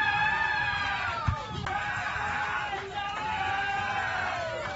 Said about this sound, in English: Tyler has the loudest cheering squad